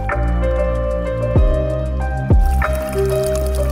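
Spring water trickles and drips steadily nearby near the Voievodyn waterfall in Zakarpattia, with a couple of sharper plops standing out over the continuous flowing sound.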